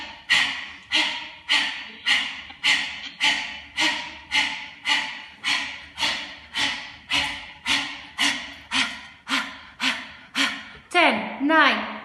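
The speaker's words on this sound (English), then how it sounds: "You're going to pump your hands and exhale at the same time, 30 times" Rhythmic forceful exhales from a yoga breathing exercise, a loud steady series of about twenty sharp puffs at roughly one per second, each followed by a brief breath-in, ending with a longer breath and a sigh-like sound.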